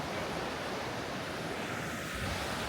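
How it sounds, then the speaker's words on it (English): A river at a campground rushes along in a steady, dense wash of water noise that stays even throughout, with no voices over it. "So now the river is getting a little bit louder."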